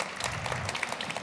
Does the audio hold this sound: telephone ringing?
no